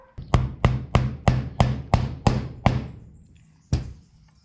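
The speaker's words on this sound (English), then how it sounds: "just get a soft blow hammer or a copper hammer and we'll tap that straight in" A copper hammer taps a split rubber sway bar bush into place on an FJ45 Troopy, with eight sharp, evenly spaced metallic blows, a pause, then one final strike, close and clear with no talk.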